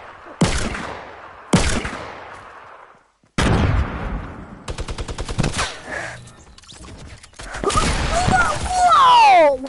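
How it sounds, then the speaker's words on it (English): Sharp gunshots ring out close by, two single cracks followed by a heavier blast and then a rapid rattling burst, while a voice shouts over the final stretch. "he's shooting me again"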